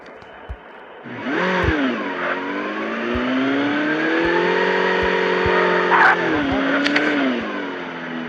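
A motorcycle engine in Call of Duty Mobile starts after a second and revs loudly, its pitch rising and falling as it holds a sustained drone close by, with a few sharp clicks and gunshot-like pops over it.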